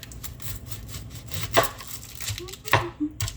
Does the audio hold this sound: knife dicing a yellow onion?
yes